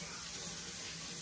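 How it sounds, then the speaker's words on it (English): Running tap water pours into a kitchen sink while hands are washed, a steady close hiss of flowing water with no voices. "Wash my hands."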